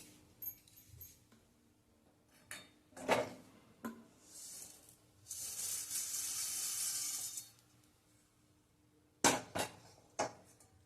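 Roasted dal is scraped from a pan onto a cotton cloth, with scattered metallic knocks and scrapes, a sustained rustling pour in the middle, and a few sharp taps at the end, quiet and close.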